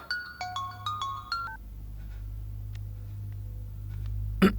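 A phone ringtone plays a quick, bright melodic pattern several times, then stops, leaving a low hum and a few faint ticks.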